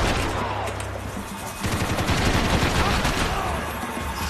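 Loud, rapid bursts of gunfire fill the scene from a weapon in Max Payne 3 on the streets of Brazil, a dense unbroken fusillade of overlapping shots running nearly throughout.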